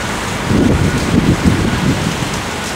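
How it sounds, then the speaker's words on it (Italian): Strong wind blows during a snowfall in Genoa, a steady, dense roar with slow gusts swelling and easing across the whole stretch and no voices. "c'è un vento allucinante"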